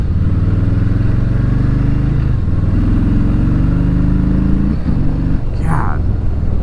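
A 2019 Harley-Davidson Low Rider 107 motorcycle rumbles steadily while riding, with deep loud engine drone that shifts pitch as it changes gears, close and continuous, with faint wind noise.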